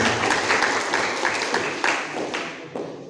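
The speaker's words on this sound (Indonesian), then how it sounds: "Tepuk tangan untuk kita semua." Applause from the audience at a branch meeting in Tulang Bawang, a dense patter of hands rising and fading unevenly over a few seconds in a roomy hall.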